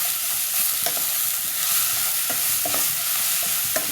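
Bitter gourd stir-fry (upperi) is stirred in a hot pan, giving loud continuous sizzling with repeated scraping strokes of a spoon against the pan at an uneven rhythm, close up and without voices.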